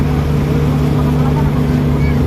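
A motorboat engine drones loud and close on a trip out to an island, a steady low hum with wind and water noise and no break in the sound.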